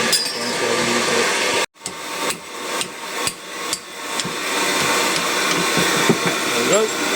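An angle grinder cuts through thick stainless steel for a custom exhaust on a Prodrive STi build, a loud continuous whine that breaks off once and then restarts with several sharp impacts and scraping as the cut goes on.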